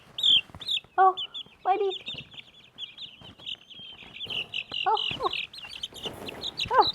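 Several chickens cluck and chirp up close in short bursts, with a person speaking softly and excitedly among them.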